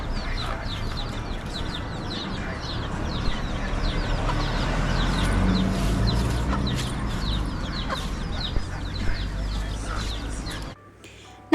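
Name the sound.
chickens clucking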